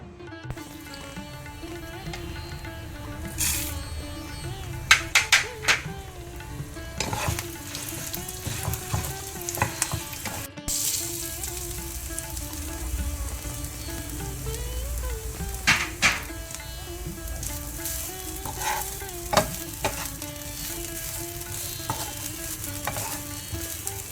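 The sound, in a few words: frying coconut, chillies and urad dal in oil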